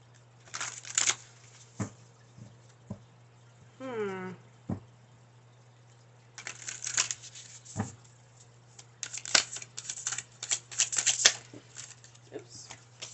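Tarot cards being shuffled, with bursts of riffling and flicking card noise separated by pauses, a voice speaking briefly between them.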